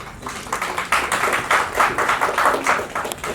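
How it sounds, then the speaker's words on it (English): Brief audience applause at an event, a small group clapping in uneven bursts that rise and fall, close and moderately loud. "Round of applause for Neelamji."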